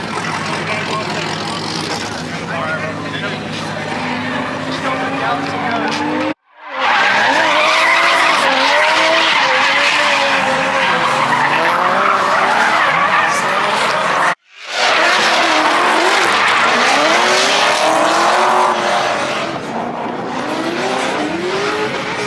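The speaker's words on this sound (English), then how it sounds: "See Subarus being converted to rear-wheel drive and drifting." A Subaru converted to rear-wheel drive drifting at a drift event, with loud, sustained tire squeal and a revving engine rising and falling through long slides, heard close from inside the car, broken by two sudden cuts.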